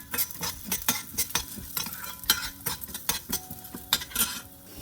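Urad dal and fenugreek seeds fry in hot oil for a pepper garlic gravy, with close, steady sizzling under frequent sharp scrapes and clinks of a spoon stirring against the pan.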